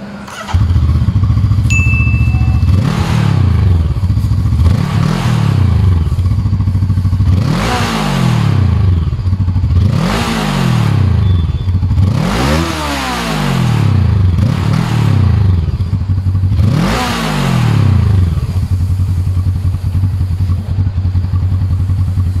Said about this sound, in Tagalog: patatakbuhin na natin itong Glider 500 ng FKM